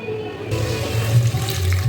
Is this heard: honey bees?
no